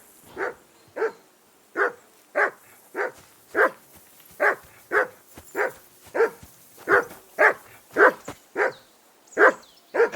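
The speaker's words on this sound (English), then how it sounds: "Whistle at that mutt of yours to stop barking." A dog barks repeatedly in Kingdom Come: Deliverance II, sixteen or so loud, evenly spaced barks in a steady rhythm, heard alone with no talk.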